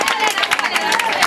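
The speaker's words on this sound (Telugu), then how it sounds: "మరి ఒక్కసారి ఆడియన్స్ కూడా మీరు గట్టిగా చప్పట్లు కొడితే వీళ్ళని చూసి" An audience at a Sunday school children's skit claps in a quick burst of dense, close applause, mixed with crowd noise and voices.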